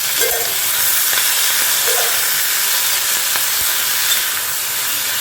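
Sizzling oil from frying in an iron kadai, stirred with a steel spatula, giving a steady hiss with occasional faint scrapes and clinks.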